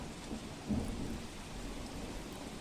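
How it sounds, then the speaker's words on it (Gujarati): Heavy rain pours steadily during a thunderstorm with wind in Bharuch, with a dull rumble of thunder swelling briefly near the start amid the constant downpour. "પવન સાથે ધોધમાર વરસાદ વરસ્યો"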